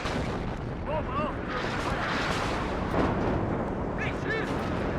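An artillery strike in the real-time strategy game WARNO, heard as a dense rumbling roar of explosions layered under a voice speaking throughout.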